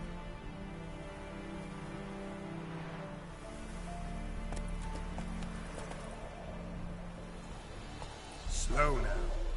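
Horse hooves clip-clop in a steady galloping rhythm in the Witcher 3 video game, continuous and moderately loud, with a neigh near the end and a voice speaking over the gallop.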